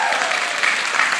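Dense, steady audience applause fills a short moment at a company's business update, loud and even throughout with no pauses.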